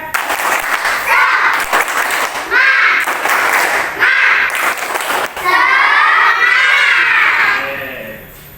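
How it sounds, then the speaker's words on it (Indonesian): Children in a school setting perform a rhythmic clapping chant, bursts of group clapping alternating with sung, shouted voices in a patterned call, loud and close, ending with a rising chanted phrase. "sekarang kita tepuk semangat dulu. Tepuk semangat."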